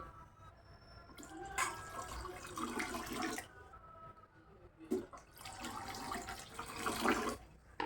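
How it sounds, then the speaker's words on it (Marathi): Water is poured from above into a bowl holding a new iron kadai, in two splashing, gurgling pours separated by a quiet pause. "मी आणखी ह्यात पाणी ओतणार आहे म्हणजे हे गच्च भरून घेणार आहे कढई"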